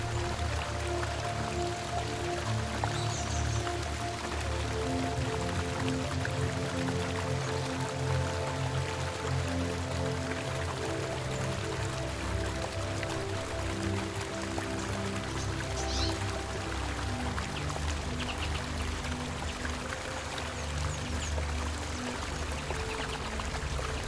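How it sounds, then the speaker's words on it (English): Rushing water of the Plitvice waterfalls flowing beneath wooden boardwalks, a steady, dense, unbroken roar of streaming water close by with no voices. "As we walk along these scenic boardwalks and hear the rush of water beneath our feet"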